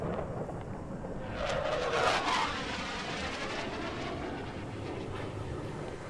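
An airplane passes overhead as a steady broadband roar heard from indoors, swelling slightly toward the middle and holding loud throughout with no talk.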